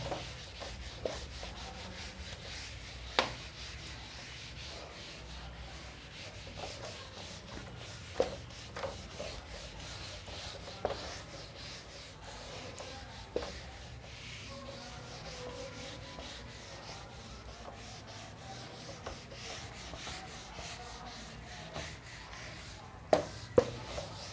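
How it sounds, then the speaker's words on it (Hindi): An eraser rubs writing off a board in a physics lecture classroom, making a faint, steady scrubbing that goes on and on, with scattered small knocks and taps and no talking. "मिटाते हैं इसको"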